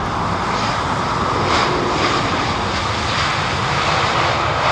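Air France Airbus A220 jet at Heathrow roaring past at close range, a loud, steady broadband engine rumble with a brief swell near the middle, no voices.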